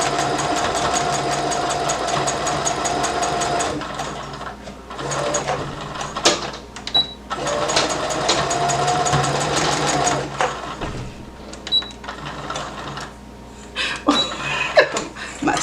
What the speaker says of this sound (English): Stitching in the ditch just means you stitch in that little valley where two seams meet together.